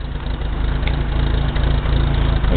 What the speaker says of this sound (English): You can tell it's idling nicely now.